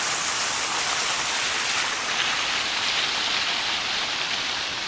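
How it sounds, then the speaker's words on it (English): A waterfall pours onto a hidden beach, a constant, loud, hissing rush of falling water that holds steady throughout with no voices. "we've come down to this beach to see the waterfall, and it doesn't disappoint."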